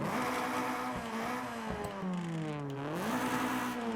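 A car with a street exhaust in Forza Horizon 5 idles and revs, its coarse rumbling tone sliding down then climbing back up, continuous and close.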